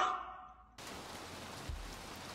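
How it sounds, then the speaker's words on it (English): Steady rain falls in the video game Little Nightmares 2, a soft broadband hiss that starts abruptly after a brief quieter stretch, with a low thump partway through. "Man, it's raining."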